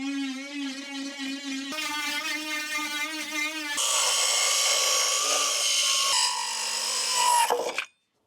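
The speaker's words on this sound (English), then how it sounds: "So for this, I'm going to use the barrel sander attachment." A Dremel 8150 rotary tool fitted with a barrel sander attachment whines at a high pitch, its tone shifting as it grinds against the wood edges, loud and steady before cutting off abruptly.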